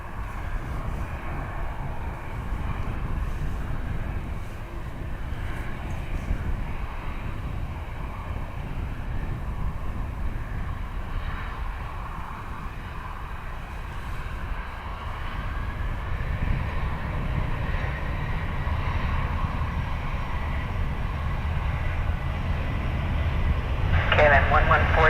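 An airliner takes off from runway 10 at Dublin Airport, a low, broad engine roar that swells gradually and grows louder toward the end, with radio chatter and voices talking over it.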